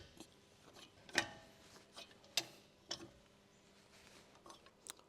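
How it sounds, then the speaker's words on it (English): A 19mm deep socket on an extension bar loosening lug nuts on a 1999 Honda Civic EK: a few sharp metallic clicks and ticks spaced apart over a quiet background. "Using the 19mm deep socket with the F extension bar, loosen the lug nuts."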